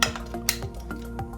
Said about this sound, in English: just take some tongs and place the cauliflower onto